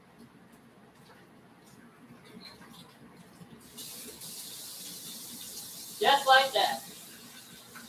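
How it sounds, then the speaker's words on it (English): Water spraying in a home kitchen during cooking, a short loud hissing burst near the end following a quieter stretch of broadband hiss, with a person talking over it. "And I'm spraying water everywhere."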